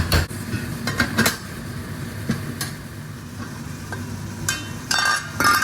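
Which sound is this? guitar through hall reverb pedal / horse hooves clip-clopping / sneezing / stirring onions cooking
stirring onions cooking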